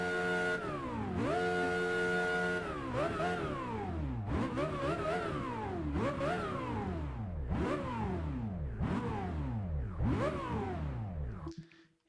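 A Ferrari 430 Scuderia in Test Drive Unlimited 2 starts up and revs repeatedly, loud rising and falling engine sweeps filling the clip before cutting off near the end, with the engine note slightly muffled by the car's roof.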